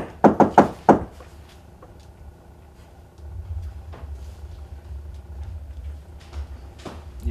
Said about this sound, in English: I want you to knock back after I'm done.